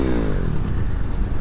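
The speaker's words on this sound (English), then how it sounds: "That is the new exhaust on my bike." Motorcycle fitted with a new exhaust revs hard and steadily, a loud, close engine roar with rising harmonics that holds throughout without a pause.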